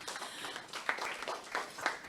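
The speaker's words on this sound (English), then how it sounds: "Give her a round of applause." Applause from an audience at a livestreamed career event, a steady wash of clapping with a few sharper bursts, moderately loud and continuous throughout.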